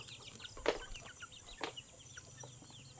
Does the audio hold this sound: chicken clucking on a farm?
yes